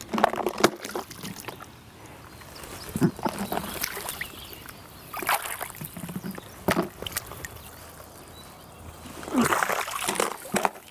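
A waterproof tackle box with a rubber seal dunked into water, giving several sharp splashes and sloshes at irregular intervals between quieter watery movement, close by.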